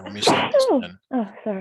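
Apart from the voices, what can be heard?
sneeze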